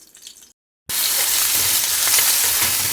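Whole spices and green chillies hitting hot oil for a tempering in a quick vegetarian curry, bursting into a loud, steady sizzle after a brief silence and crackling on without a break.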